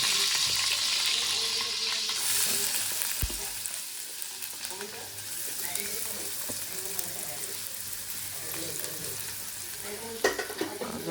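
Green chillies fry in a pan for a leafy vegetable dish, giving a constant close sizzle with scraping stirs and an occasional clink, and a brief voice partway through.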